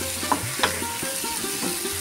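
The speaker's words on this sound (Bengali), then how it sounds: "আলুটা দিয়ে একটুখানি ভালো করে মশলার সাথে মিশিয়ে নেব" Potatoes stirred into frying spice mix in a pan for a chicken and potato curry, with scraping spatula strokes at a loose rhythm over a constant soft sizzle, close up and with no talking.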